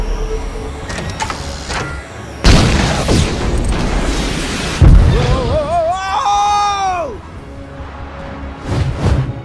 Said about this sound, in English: I'm reading an incoming ship. Watch out! It's about to open fire!